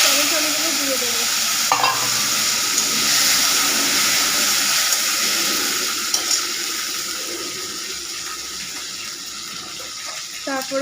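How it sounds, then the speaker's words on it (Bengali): Tomatoes hiss and sizzle loudly in hot oil tempered with panch phoron and dried red chillies, a steady close frying roar with faint stirring scrapes throughout. "পাঁচফোড়ন আর শুকনো লঙ্কা ফোড়ন দেব, দিয়ে টমেটোগুলো দিয়ে দেবো।"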